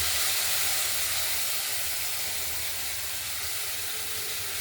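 Potatoes and okra frying in a pan as poppy seed paste goes in, giving a steady, fairly loud hissing sizzle that holds evenly throughout with no talking.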